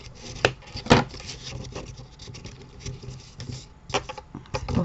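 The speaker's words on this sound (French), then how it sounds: "Vous allez marquer vos plis." Thick cardstock is scored and folded along four edges for a shadow box card, making soft rubbing and creasing sounds with a few sharper taps and scrapes scattered through the clip.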